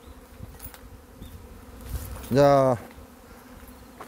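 Hornets flying around a beehive at an apiary, a continuous low insect drone beneath one short, loud, close buzzing pass as a hornet flies by, with a brief spoken word.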